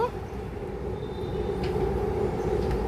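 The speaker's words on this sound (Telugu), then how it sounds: "ఇది ఇంకొక ట్రైన్ వచ్చింది ఈలోపు" A train rumbles steadily past at close range, a continuous low roar with faint metallic squeaks above it.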